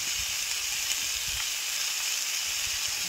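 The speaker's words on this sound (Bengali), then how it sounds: "দেখুন জিরে গুঁড়ো দিয়ে দিলাম, একটু 2 চামচ জিরে গুঁড়ো" Cumin powder goes into fish roe frying in hot oil, a steady close hiss of sizzling that holds evenly throughout with faint low clatter beneath.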